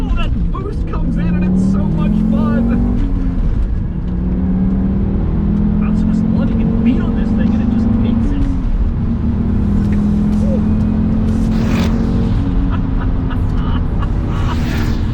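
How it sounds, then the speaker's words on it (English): A 1990s-era Audi RS2 wagon accelerates hard in a drag race against a new Audi RS6, its engine droning and rising through gears under a man's continuous close-up talk from inside the car. "it is fun to be able to drive the RS2 as hard as I want"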